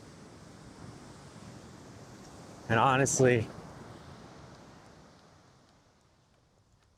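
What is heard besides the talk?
ocean waves breaking in high-tide wind swell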